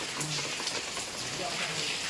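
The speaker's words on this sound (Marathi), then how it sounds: "पाऊस बघ किती" Steady rain patters on a surface, a dense continuous hiss with no clear breaks.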